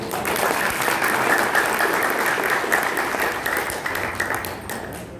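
Sustained applause from an audience at an Arya Samaj Vedic bhajan gathering, a dense steady wash of clapping that holds for several seconds and slowly eases.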